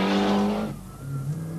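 A rally car on a street stage in Ramelton, Donegal, skids off the road, a loud close engine roar with tire scrub that cuts off abruptly partway through, leaving a lower rumble.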